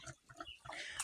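A male native pig grunts in short, low, close snorts, several rough oinks in quick succession on a small native pig farm.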